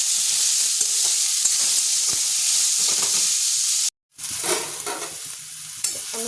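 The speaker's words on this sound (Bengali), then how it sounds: "এবার এটাকে আমি তেলের সাথে ভালোভাবে নাড়াচাড়া করে নেব।" Chopped banana stem is stirred in hot oil in a pan, a loud, constant sizzle broken by one brief silent gap, followed by scraping stirs and crackling.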